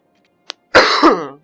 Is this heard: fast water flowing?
no